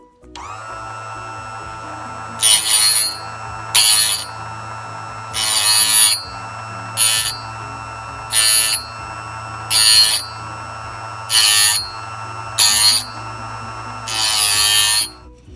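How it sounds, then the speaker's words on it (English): A Ferrex Scheppach GS650 multi-function sharpener runs with a steady electric hum, broken by about nine loud, harsh grinding bursts as a blade is pressed into the wheel and moved back and forth. "Keep moving it backwards and forwards, and slowly put a bit of pressure down into the wheel."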